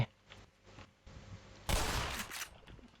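Shotgun fire in Black Mesa: a few faint muffled pops early on, then one loud blast at mid-clip that trails off into a noisy decay.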